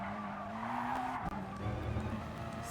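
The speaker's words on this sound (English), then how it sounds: "You can hear all that squealing on this right-hander here." Race car tyres squealing through a right-hand corner in a racing video game, a steady high screech riding over engine drone for the whole stretch, with a brief dip midway.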